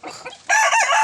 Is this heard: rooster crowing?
yes